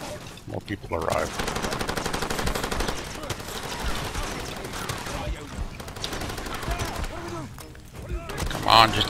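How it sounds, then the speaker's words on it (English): Heavy machine gun fire during a nighttime assault in the shooter game Far Cry 2 comes as sustained rapid bursts with brief pauses, dense and close, with scattered thuds and a loud burst at the end. "The guy had a machine gun, heavy machine gun."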